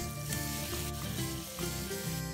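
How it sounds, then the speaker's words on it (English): Burger patties sizzle and fry in oil in a pan, a steady crackling hiss with some music playing underneath throughout. "Shape your patties before dropping them in and let it sizzle away."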